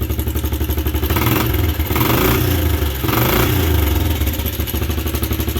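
Suzuki LT125 ATV engine idling while warming up on choke, a steady loud rhythmic putter with mechanical clatter that stays constant throughout, close to the machine.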